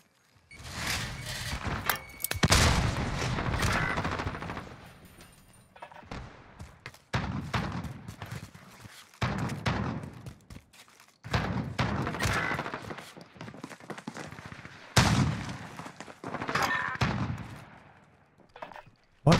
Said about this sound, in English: Why are these guys shooting at each other?